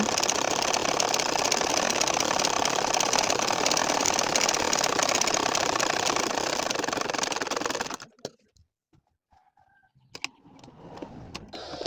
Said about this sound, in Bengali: দুই ইঞ্চি পরিমাণ রেখে অর্থাৎ দুই কর্মেপে রেখে সোজাভাবে সেলাই করে যাব